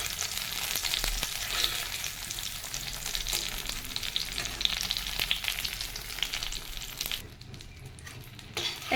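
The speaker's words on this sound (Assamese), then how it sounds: "আৰু দি পিনি ধুনীয়াকৈ এনেকৈ ভাজি ল'ম, ইলুটি সিলুটি কৰি" Sliced tomatoes frying in oil in a pan for a dried-fish gravy, a steady close sizzle with stirring clatter, dropping away to near quiet for the final moments.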